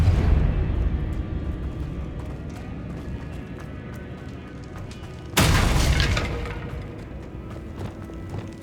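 A Depulso force spell cast in Hogwarts Legacy lands as a sudden loud whooshing burst with a crackling impact midway through, standing out over a steady rumbling game ambience before slowly fading back down.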